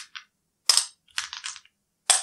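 Small wooden board game cubes from a Pandemic lab expansion dropped into little plastic cups, giving several short clattering rattles in separate bursts, close and fairly clear with no talking.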